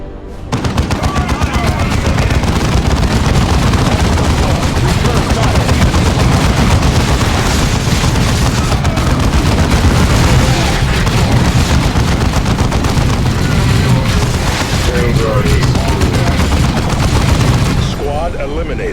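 Dense, continuous gunfire in the video game Warhammer 40,000: Dawn of War II, loud rapid bursts and booms layered over one another for nearly the whole stretch, with battlefield chatter mixed in.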